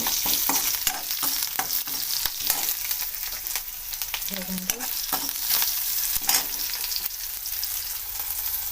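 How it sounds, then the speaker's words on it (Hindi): Onions stir-fried in a pan until they turn brown, for a leafy-vegetable curry: steady close sizzling and frying hiss with repeated scraping stirs throughout, no talking. "प्याज भाजी देमा ब्राउन कलर चेंज होला पर्यंत"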